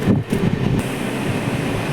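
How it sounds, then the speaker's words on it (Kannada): Train rolling through Yelahanka Junction railway station, a steady rumbling roar with rhythmic wheel thumps and metallic rattle, close and continuous without talk. "Railway station, Yelahanka junction."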